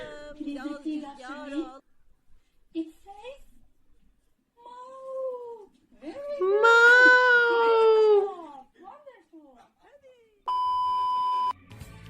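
A cat meows several times with drawn-out, wavering cries, one loud and long, followed by a steady electronic beep.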